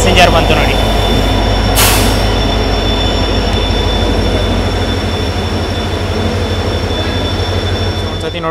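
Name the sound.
Chamarajanagar–Tumakuru passenger train passing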